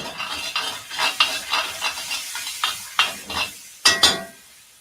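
Vegetables with oyster sauce are stirred in a wok that is not fully hot. A spatula scrapes and clinks against the pan in a steady rhythm over a soft sizzle, with a few sharper metallic knocks near the end.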